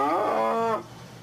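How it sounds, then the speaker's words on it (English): A single recorded cow moo, played in place of a real tsunami siren during a periodic test in Oregon, rises loud and drawn out for under a second, then cuts off into quiet background. "instead of the real siren, they use a recording of a cow"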